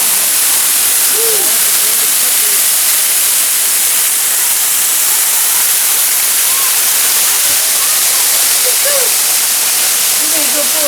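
Water pours down loudly from a waterfall at Devil's Den, Arkansas, heard from right behind it as a roaring, unbroken hiss that swamps everything, with faint voices buried beneath.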